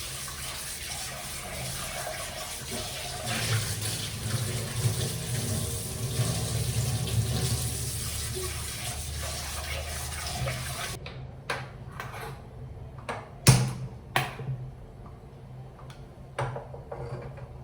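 Tap water runs steadily into a sink for about eleven seconds while a new cast iron pan is rinsed during seasoning, then cuts off, leaving scattered clinks and small handling knocks.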